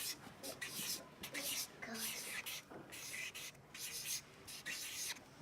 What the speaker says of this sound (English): I'm going to write it right here.